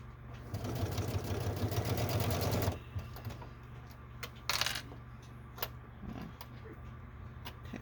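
A sewing machine back-stitches a handmade fabric clutch, running in a steady rapid burst for a couple of seconds, then stopping, followed by a few small clicks and handling sounds close by.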